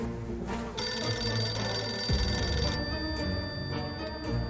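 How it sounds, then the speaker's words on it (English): An old telephone bell ringing outside a fallout shelter in the survival game 60 Seconds! Reatomized, a steady electronic ring layered over a low game music bed, moderately loud and continuous with no talk. "It's gonna be the phone ringing outside."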